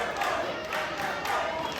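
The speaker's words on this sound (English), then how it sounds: "The crowd chanting for Everborn now" A crowd at a CCW Kumite 6 steel cage wrestling show roars and chants for the wrestler Everborn: a steady, dense wash of many voices that swells briefly throughout the short stretch.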